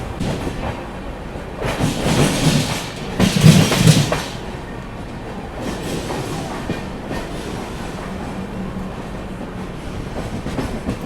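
Deccan Queen Express running on rails from Mumbai toward Karjat, a steady rolling rumble with wheel clatter that swells louder for a few seconds early on, then settles into an even, continuous ride.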